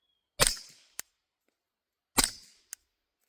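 Two suppressed Glock 19 pistol shots fired into dirt outdoors, each a sharp close crack with a brief tail followed by a small metallic clack of the slide, spaced nearly two seconds apart in otherwise quiet surroundings.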